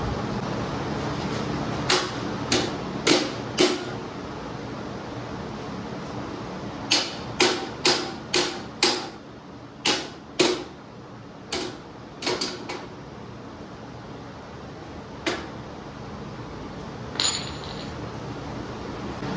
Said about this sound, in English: Let's see if I can beat this back a little bit.